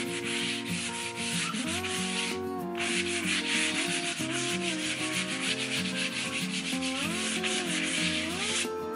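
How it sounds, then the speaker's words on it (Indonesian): Continuous rasping of sandpaper rubbed back and forth on charred shou sugi ban wood, close and steady, with a brief pause partway through. "Namun ini kita amplas sedikit saja."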